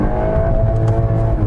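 A 2021 Volkswagen Golf R on a drive to the Nürburgring holds its engine against the rev limiter. The engine gives a loud, sustained, close drone that stays level with slight stuttering pulses.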